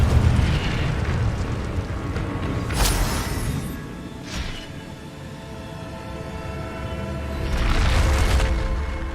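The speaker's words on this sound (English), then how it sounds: "Incendio!" Incendio fire spell blasts in Hogwarts Legacy, several loud whooshing bursts with roaring rumble, spaced a few seconds apart over a dense game soundscape.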